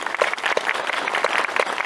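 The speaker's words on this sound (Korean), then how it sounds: "박수로 한번 좀 주세요" An audience at a Korean film screening Q&A applauds, a brief burst of dense, lively clapping that is loud and close throughout.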